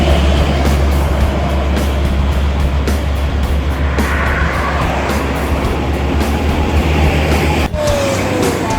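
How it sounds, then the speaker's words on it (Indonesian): An HSG Trans intercity bus pulls into the Batang Pamo bus portal, a loud continuous engine rumble and road roar close by, steady throughout with a brief dip near the end. "Bus Minang yang ketiga masuk dari rantau HSG Trans pada pukul 13:44 waktu Indonesia Barat."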